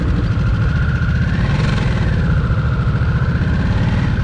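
A 2023 Harley-Davidson Nightster Special motorcycle engine idles steadily close by, a constant low rumble with a faint rising and falling whine, heard alone without talk.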